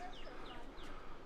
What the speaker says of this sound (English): We can hear the birds chirping up top.